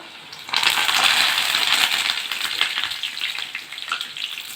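Millet flour vada dough with curry leaves drops into hot oil and bursts into a loud, crackling sizzle that settles into steady bubbling frying, heard up close.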